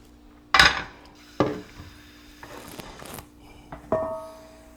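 A crepe pan spun and handled in a kitchen, giving several sharp metallic clanks and scrapes spaced apart, fairly close, with no talking.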